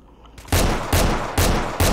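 A Desert Eagle pistol in S.T.A.L.K.E.R. fires four loud booming shots in a steady rhythm, each with a sharp crack and a brief decaying tail, after a quiet start.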